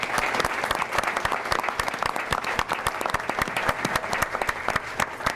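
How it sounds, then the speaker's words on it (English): Steady, dense applause from an audience at a school board of education meeting, sustained and fairly close with many individual claps throughout, no speech. "if we could just have one more round of applause for our businesses"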